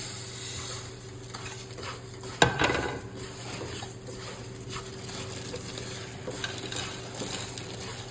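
Rice snack being stir-fried in a pan with coriander and cumin, soft sizzling and scraping under a single sharp clank of utensil against the pan, then quieter intermittent stirring.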